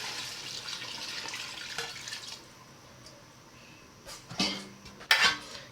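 Water poured into a pot of jollof rice mixed with leftover stew, a soft running splash with faint drips and a few sharp clinks of utensils against the pot near the end.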